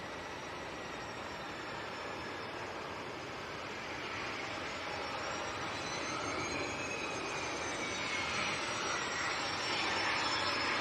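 Steady broadband roar of an aircraft taxiing at Leeds Bradford Airport in stormy conditions, a continuous engine hum with a faint high whine that slowly grows louder, heard alone without talk.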